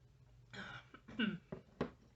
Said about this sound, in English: I had a bit of a coughing fit.